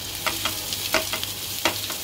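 Chopped onion and green chili frying in a pan, a steady close sizzle broken by regular scrapes and taps of a spoon stirring them.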